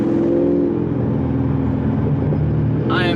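C7 Corvette with headers, X-pipe exhaust and tune, engine loud and close as it blips through quick downshifts, a deep steady exhaust drone with shifting pitch and a brief higher rasp at the end.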